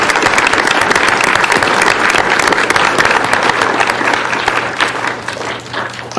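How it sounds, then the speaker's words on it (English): Sustained applause from an audience at a Douglas County Board of Commissioners business meeting, a dense, steady clapping that fills the room for several seconds before easing slightly at the end. "let's give yourselves a round of applause for all your comments"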